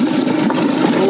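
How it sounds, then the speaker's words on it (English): A boat engine idles steadily just after being started, a close, continuous mid-pitched hum with a faint rough rumble and no revving, heard on its own. "Dad, I started the engine again!"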